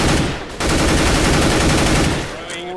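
Rapid automatic gunfire in the video game CS:GO, loud dense bursts that cut out briefly and then resume in a long sustained volley before tapering off.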